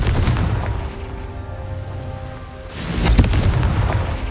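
A Confringo blasting spell explodes in Hogwarts Legacy, a loud booming blast with rumbling debris, swelling into a second heavy burst near the end.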